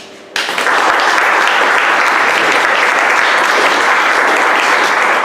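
After a brief quiet moment, loud sustained applause erupts from the audience at a medical association lecture on acute coronary syndrome emergencies, holding steady and dense to the end.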